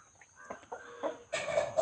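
Fighting rooster chickens cluck in short bursts, nearby, with a louder run of clucks toward the end over a quiet background.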